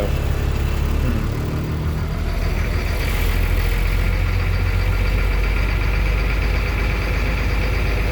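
A bus engine idles close by in a loud, steady, continuous rumble with no break.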